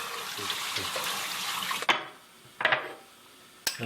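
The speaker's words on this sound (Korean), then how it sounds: "잠시 쉴 틈도 없이 또 설거지를 시작합니다." Dishes being washed at a kitchen sink, with tap water running steadily and close, then broken by a few sharp clinks and knocks of dishware between quieter pauses.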